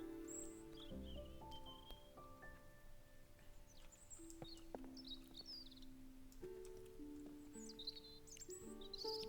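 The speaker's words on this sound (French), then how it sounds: "Il y a un oiseau?" Short bird chirps and tweets from the video game Botany Manor ring out intermittently over a steady layer of tonal, music-like background sound, fairly faint and scattered throughout.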